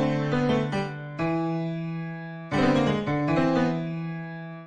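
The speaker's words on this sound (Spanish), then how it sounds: "Es un piano que suena así." Keystone Classics free piano plugin plays a few sustained chords, two struck groups with notes ringing out and slowly decaying, clear and alone.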